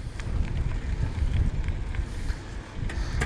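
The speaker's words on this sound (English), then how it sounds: "lot of headwind today." Strong headwind buffeting an outdoor microphone, a steady low rumbling roar with gusty surges and no talking.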